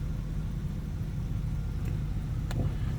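A 1981 Buick Riviera engine running steadily at idle, a low continuous rumble close by with a couple of faint clicks over it.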